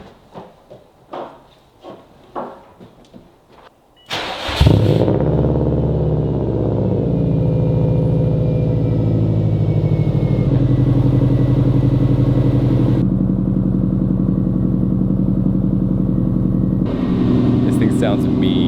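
Subaru WRX with a custom exhaust cranks over after a few clicks, fires up loudly and settles into a steady, rumbling idle up close.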